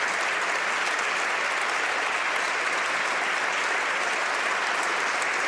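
Members of the House of Commons applaud, a dense, continuous roar of clapping that stays uniform and loud from start to finish.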